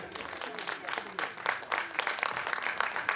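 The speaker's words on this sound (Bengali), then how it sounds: "অনবদ্য একটু জোরে করতালি হোক।" An audience at an annual cultural festival applauds after a poetry recitation, a full, close burst of many hands clapping in a dense irregular patter that holds steady throughout.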